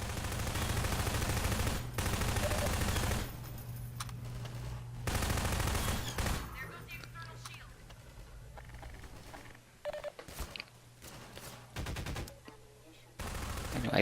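Bursts of automatic gunfire from the first-person shooter Half-Life 2, loud and rapid at the start, then scattered shots and impacts amid quieter game ambience.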